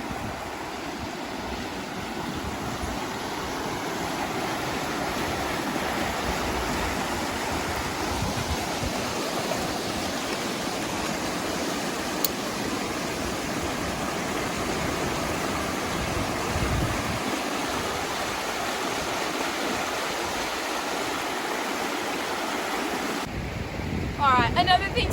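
A river rushes steadily at a crossing point, a broad continuous roar of flowing water mixed with wind buffeting the microphone, loud and unbroken throughout.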